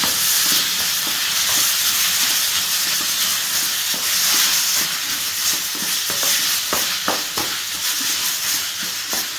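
Chopped tomatoes sauté in a pan for prawn masala, a steady close hiss of sizzling with light stirring scrapes and taps toward the end, no voices.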